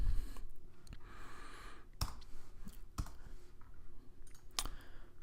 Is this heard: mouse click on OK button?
yes